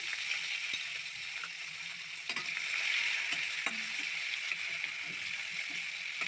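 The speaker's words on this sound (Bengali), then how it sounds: "পেঁয়াজটা একটু লাল লাল করে ভেজে নিচ্ছি।" Chopped onion sizzles steadily in hot oil for a rohu fish curry, a continuous crackling fry punctuated by the scrape and clink of a stirring spoon, close and moderately quiet.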